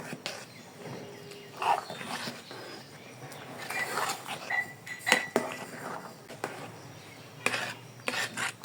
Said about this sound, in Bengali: নেড়ে মিশিয়ে নিব ভালো করে